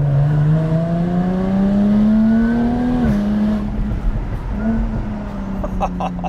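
A Jaguar F-Type sports car engine holds a steady, rising drone that swells, dips briefly, then settles back into a loud, sustained rumble with no talking.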